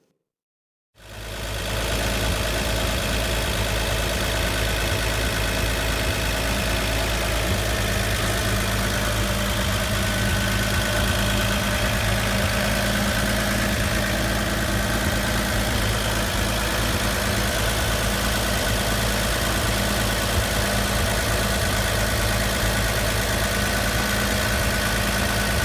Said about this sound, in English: And after this, we got the truck running.